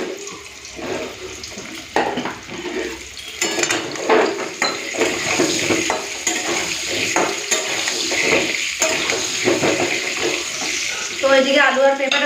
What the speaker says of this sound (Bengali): আলু আর পেঁপেটা একসাথেই ভেজে নিচ্ছি